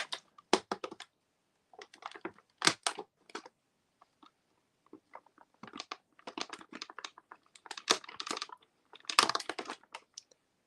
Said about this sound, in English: So let's go ahead and do that since I got my scissors.